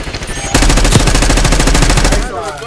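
Rapid bursts of gunfire in a video game match, loud and dense, a rattling volley of shots lasting well over a second before cutting off, alone without talk.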